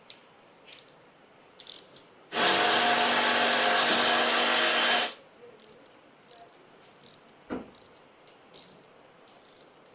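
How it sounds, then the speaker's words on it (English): Background work on a Bobcat loader in a shop while its motor is removed, a loud steady whirring burst from a power tool lasting a few seconds, plus scattered faint clanks and knocks. "Y'all can hear Coleman still back there working on the Bobcat"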